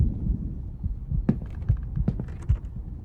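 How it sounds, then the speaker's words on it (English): Heartbeat sound effect in a video game: low, muffled thumps in a repeating double-beat pattern, fairly loud and up close, with a faint hum beneath. "Hear the heartbeat."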